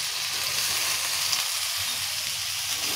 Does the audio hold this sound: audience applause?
no